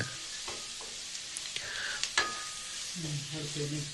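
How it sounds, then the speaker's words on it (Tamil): Tomatoes sautéing in a pan for a village-style egg stir-fry, with soft stirring scrapes and a low steady sizzle close by, and no talk. "தக்காளி நல்லா வதங்கிட்டு இருக்கு"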